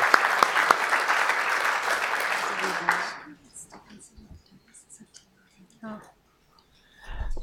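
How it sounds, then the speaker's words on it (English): A crowd at a California Transportation Commission meeting applauds the commission, with loud, dense clapping for about three seconds that then stops abruptly, followed by quiet room noise, a few scattered sounds and a brief voice. "I want to invite the crowd maybe to join me in a round of applause for the commission"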